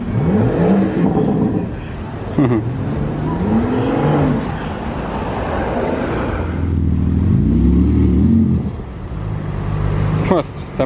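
A modified Ferrari V12 engine is revved repeatedly, loud nearby, each blip rising and falling in pitch with brief lulls between, while people talk over it.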